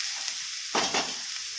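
Finely shredded cabbage for paneer veg momos sautéing in a pan, a brief close burst of sizzle and stirring rising over a faint background and fading within about a second.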